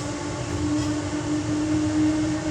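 A Bengaluru metro train in motion, heard from inside as a steady close rumble with a sustained tonal hum throughout.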